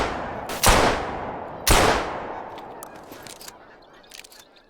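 Two loud, sharp gunshots ring out about a second apart at geese in the hunting game Hunter: Call of the Wild, each tailing off in a long echo, followed by faint game noises.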